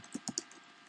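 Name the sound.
typing a link on a computer keyboard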